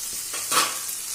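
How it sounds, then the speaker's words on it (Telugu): Green chillies, peas, capsicum, carrot and mint frying in a pan with egg for hotel-style chicken fried rice, a short close sizzle swelling briefly with a stir. "ఇవన్నీ వేసుకొని బాగా ఫ్రై చేసుకోవాలండి"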